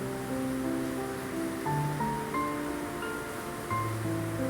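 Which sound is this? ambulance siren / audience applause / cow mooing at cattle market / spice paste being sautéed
spice paste being sautéed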